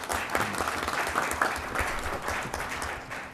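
Applause from the audience at a city council regular meeting in Duncanville, Texas, a steady wash of many hands clapping for a few seconds without talk.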